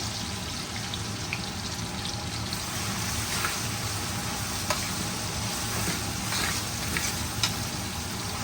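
Whole garam masala, including cardamom, cinnamon, shahi jeera, cloves, black peppercorns and black cardamom, sizzles in hot oil in a pan. The steady, close frying hiss is dotted with small pops and crackles, and no one speaks.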